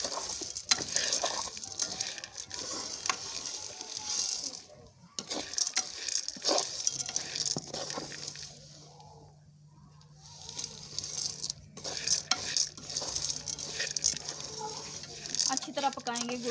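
Roasted corn cooks with jaggery in a pan, giving a close, soft sizzle and scraping stir strokes that come in uneven bursts, with a quieter lull partway through.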